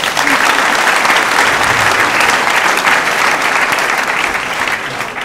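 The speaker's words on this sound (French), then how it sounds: "je vous demande d'applaudir son absence." Loud, sustained applause from a crowd at a political party meeting, dense clapping filling the whole stretch without pause and fading slightly at the end.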